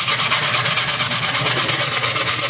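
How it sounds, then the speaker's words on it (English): Steady back-and-forth rubbing of 180 grit sandpaper over support marks on a 3D-printed part, a rapid even rhythm of strokes, close and loud with no voices. "I'm going to go in and just kind of sand these support marks a little bit"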